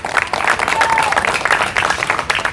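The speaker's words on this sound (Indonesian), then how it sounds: "Berikan tepuk tangan bagi Yesus." A church congregation applauds for Jesus, lively clapping in pulsing waves, with faint voices and a brief whistle-like tone mixed in.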